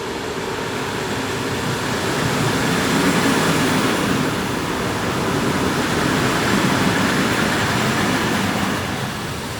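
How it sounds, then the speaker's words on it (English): Mat'64, a 1970s Dutch classic electric train, runs in rush-hour passenger service toward Amersfoort, making a steady, loud, broadband rumble and rush that holds at an even level throughout without pause. "we jumped back on board the Mat'64, this time full of morning rush hour commuters"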